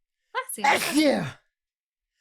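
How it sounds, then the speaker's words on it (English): A single loud, close human sneeze bursts out after a quick inhale and ends abruptly, followed by silence; the person mutters a few words around it. "I'm gonna sneeze."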